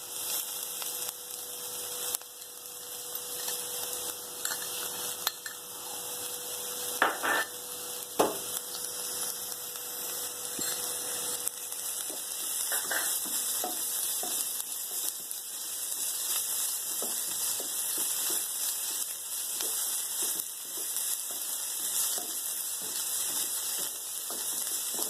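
Ginger garlic paste sautés in a pan for paneer tikka masala gravy, a steady soft sizzle with a faint hum running underneath, a few light clicks and no talking.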